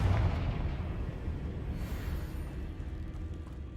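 Confringo fire spell exploding in Hogwarts Legacy, a heavy rumbling blast whose deep roar fills the whole stretch and slowly tapers off over a few seconds, with no voices.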